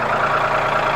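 A Mahindra tractor engine idling nearby, a steady, loud, even diesel rumble with no breaks or changes in pitch.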